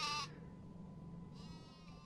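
A sheep bleats in the Worms Ultimate Mayhem video game, one short, faint cry at the start and a second, longer one near the end, with quiet background in between.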